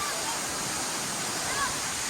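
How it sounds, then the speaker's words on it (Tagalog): Steady broadband rush of Kanapulan Falls in Naawan, Misamis Oriental fills the clip evenly, with a few faint voice-like tones briefly above the roar. "Ito ang falls."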